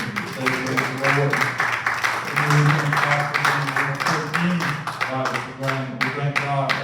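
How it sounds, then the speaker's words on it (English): Rhythmic hand clapping from a church congregation for the musicians, moderately loud and steady, running alongside music in the room. "let's give the hand clap for the musicians"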